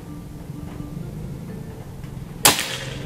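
A single sharp shot from a locally made PCP air rifle cracks out once over quiet outdoor background noise, with a brief hissing tail afterward.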